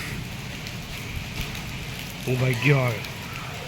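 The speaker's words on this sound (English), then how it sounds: "Oh, it's a hailstorm." Hail patters and hisses steadily across outdoor surfaces in a dense, even wash of impacts, with an excited voice breaking in loudly near the end over the continuing storm.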